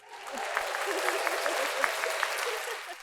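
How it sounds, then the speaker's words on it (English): Audience applause closes an episode of a comedy chat show, a steady wash of clapping that holds for about three seconds with a few sharper claps poking through. "Applause."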